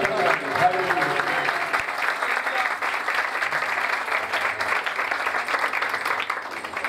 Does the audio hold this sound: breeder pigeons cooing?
no